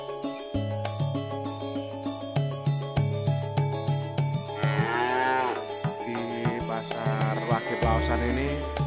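Bulls lowing at a cattle market in Plaosan, Magetan, East Java, with repeated loud moos and bellows close by, layered over one another against a rhythmic background clatter.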